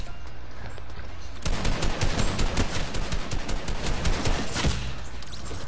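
Dense, continuous video game gunfire erupts suddenly after a low background hum, with rapid overlapping shots holding steady and loud for several seconds.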